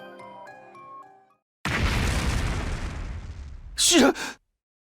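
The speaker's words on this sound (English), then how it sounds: "An explosion suddenly echoed across the room." Explosion in the video game The Hundred Line: Last Defense Academy, a loud broad burst that rumbles for about two seconds, with a sharp crackling tail and an abrupt cutoff after a short music passage.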